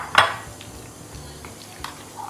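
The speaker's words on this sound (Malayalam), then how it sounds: "ഇത് നമുക്ക് ചേർത്ത് കൊടുത്ത് മിക്സ് ചെയ്തെടുക്കാം" A spoon stirs 1.5 cups of mashed thick curd into cooked pumpkin (mathanga) pachadi for a sadya. One sharp clink of metal on the pot comes first, followed by faint, soft scraping and a few light taps.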